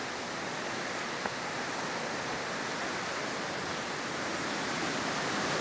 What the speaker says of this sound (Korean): 지금 옆에 이 계곡물 소리를 들어보면 그 규모가 얼마나 큰지 가히 짐작이 되겠는데요